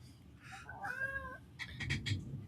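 A pet cat named Fred meows indoors, several drawn-out, wavering cries close by, followed by a few shorter chirpy calls over a low background rumble.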